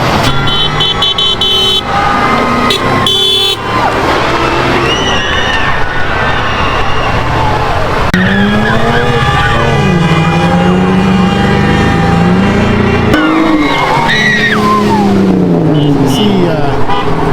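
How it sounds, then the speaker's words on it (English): A truck carrying kids hanging out of it speeds through a busy, high-traffic intersection at a student protest, its engine roar loud and continuous amid horn toots and crowd cheering, with people talking throughout. "Kids hanging out of that truck driving at a high rate of speed through an intersection"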